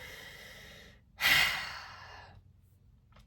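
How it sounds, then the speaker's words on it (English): Deep breath during a guided breathing exercise: a quiet inhale, then a single long, soft exhale that fades out slowly, heard alone at close range. "let's take a couple of deep breaths"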